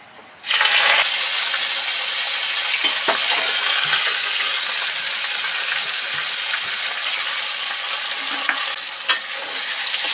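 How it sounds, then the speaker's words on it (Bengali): Coriander leaves and tomato dropped into hot spiced oil for a pointed gourd curry, setting off a loud, steady sizzle and frying crackle that runs unbroken after a sudden start, with occasional light stirring clinks. "ধনে পাতা টমেটোটা তেলের মধ্যে দিলাম"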